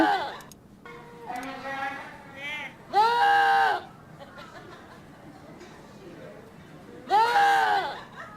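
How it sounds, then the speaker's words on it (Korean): Two loud, quavering bleats stand out in a goat-or-human guessing game. Players chatter and laugh between the bleats. "이게 염소란 말이야."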